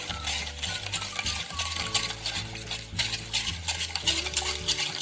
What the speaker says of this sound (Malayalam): ഇത് നമുക്ക് നമ്മളെടുത്ത് വെച്ചിരിക്കുന്ന മിൽക്കും കൂടി ആഡ് ചെയ്തിട്ട് നല്ലോണം മിക്സ് ചെയ്തെടുക്കുക